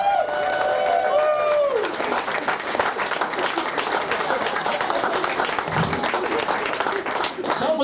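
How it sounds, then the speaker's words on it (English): A comedy show audience gives a warm round of applause for a soldier and his fiancée, loud sustained clapping mixed with cheers, while a voice speaks over the start before the clapping carries on alone. "Would you please give a warm round of applause for specialist Josh Unks"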